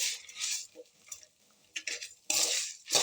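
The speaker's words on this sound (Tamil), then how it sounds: "இவ்வளோ உப்பை போட்டு வறுத்துட்றேன்" Coarse rock salt being dry-roasted and stirred in a pan for garlic powder, close scraping and gritty rasping strokes in short bursts with brief gaps between them.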